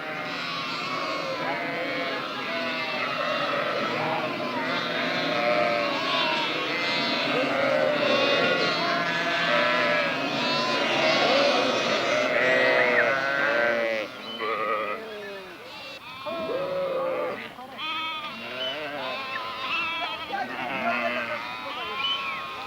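Sheep and lambs bleat in a high mountain pasture, a dense chorus of overlapping cries near and far that continues steadily throughout, with lambs kept apart from their mothers.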